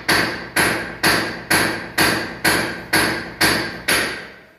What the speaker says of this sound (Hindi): उसको काट रहा है छैनी थोड़ी के साथ, तोड़ रहा है यानी कि उसको, तो उसकी आवाज़ भी आ रही है अंदर